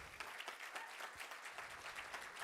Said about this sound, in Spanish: yo les pido un aplauso también para ella